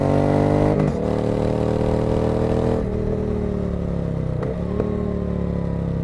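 A Triumph Speed Twin motorcycle engine drones steadily and loudly throughout, with brief shifts in pitch as the rider changes gear, and wind noise rushing past.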